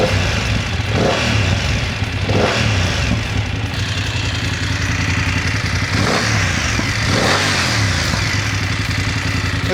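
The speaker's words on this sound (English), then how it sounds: "And the exhaust sound." A BMW motorcycle, an F900GS-type bike at a Bangkok dealership, runs steadily with its exhaust note rising in several revving swells over a constant engine drone, loud and close, with no talk.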